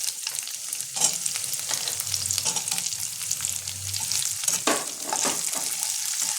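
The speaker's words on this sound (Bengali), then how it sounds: "এবার আমি এর মধ্যে পেঁয়াজটা দিয়ে দেবো, স্লাইস পেঁয়াজটা আমি দিয়ে দিলাম" Thickly sliced onion sizzling steadily in hot oil in a pan, with a few stirring scrapes breaking through the continuous crackle, close and fairly loud with no voices.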